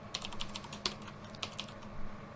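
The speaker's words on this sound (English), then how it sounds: "we're going to type center" Typing on a computer keyboard: quick, uneven clusters of close clicking keystrokes with a few sharper taps, heard alone without speech.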